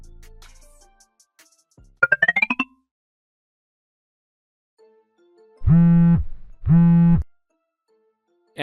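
A phone rings with an incoming call in a quiet room: two long, clear electronic tones in a row, preceded by a brief chirpy sound a few seconds earlier.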